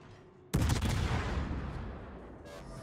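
A warship's guns fire in World of Warships, one sudden loud blast of naval artillery that rolls into a long, fading rumble, followed by a faint later crack.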